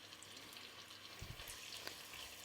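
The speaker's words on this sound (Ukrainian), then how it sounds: "І нехай потихенечку шкварчить" Onion sizzles softly in hot oil in a thick-walled cast iron pot, a gentle crackling hiss with a few small pops and a brief stirring clatter midway.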